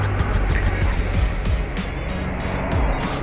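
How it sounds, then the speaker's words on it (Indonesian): Steady, loud roadside traffic, with cars and motorbikes rumbling past close by in a continuous wash of engine and tyre noise. "jadi mohon maaf apabila agak-agak bising mobil motor gitu ya"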